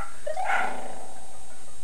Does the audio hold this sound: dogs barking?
yes